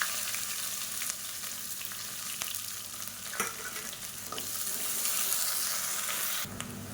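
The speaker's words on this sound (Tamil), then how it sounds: "இப்போ இது எல்லாமே நல்லா பொரியட்டும்" Steady sizzling of onions frying in hot oil, continuous crackle with occasional stirring clatter, close up and no voices.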